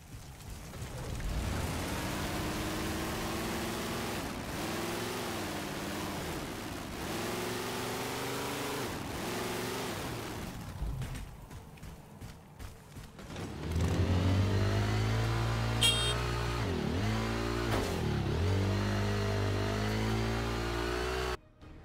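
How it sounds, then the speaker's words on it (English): Warthog vehicle engine in the video game Halo 4, a thin buzzing whine that rises and falls with throttle, steady and loud for over twenty seconds, dipping briefly midway before revving up again, with no talking. "The sound design is absolutely terrible. It sounds like a little RC car."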